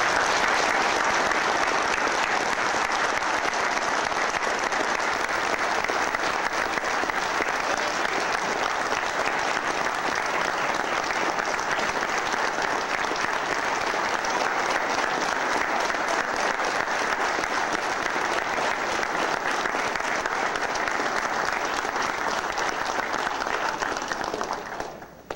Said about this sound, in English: please, a big, huge round of applause